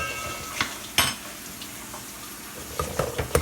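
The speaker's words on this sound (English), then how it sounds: "Watch your onions, and then drop your ginger garlic paste." Onions frying in a pan with ginger garlic paste just added, crackling softly with a few sharp clatters and stirring scrapes at intervals; close and fairly quiet, with no talking.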